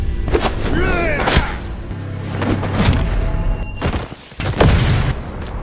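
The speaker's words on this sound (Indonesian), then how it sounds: "Akibat ledakan keras yang ditimbulkan" Several loud booming blasts and thuds erupt in sequence amid chaotic noise and brief shouting, like explosions in an action scene.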